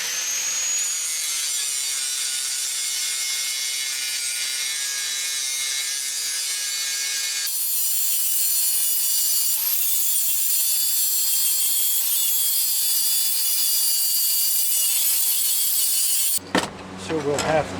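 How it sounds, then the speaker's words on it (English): Grinder working a weld on a pole-handle tomahawk, a steady high-pitched whine with bright ringing tones, continuous and close, its pitch stepping slightly partway through before abruptly stopping near the end. "I just got to do a little bit of grinding on it."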